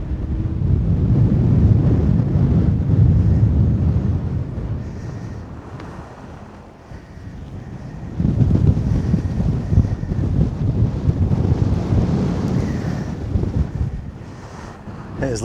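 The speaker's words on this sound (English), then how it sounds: "It's a bit windy." Steady wind buffeting the microphone outdoors on moody moorland in the Peak District, a loud continuous low rumble that eases off midway and then gusts back up.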